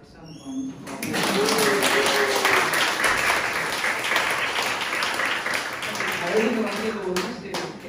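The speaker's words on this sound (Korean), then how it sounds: "선생님께 박수 한번" Audience applause for a cellist at a small concert, dense clapping that starts after a short pause and holds steady and loud throughout, with a voice speaking over it near the end.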